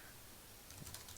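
Computer keyboard keys tapped in a short quiet burst, soft clicks growing a little busier toward the end, heard alone with no talk.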